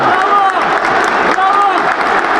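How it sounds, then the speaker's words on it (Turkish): Football fans applaud in protest after a Göztepe versus Alanyaspor match, a dense, steady wash of stadium clapping and crowd noise with a commentator talking over it. "Taraftar çok üzgün. Şu an alkışlarla protesto."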